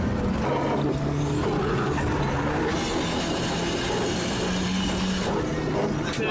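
A turbocharged Toyota Hilux drifts under hand brake, making a loud, continuous engine roar with broad tire and road noise that stays close and steady throughout.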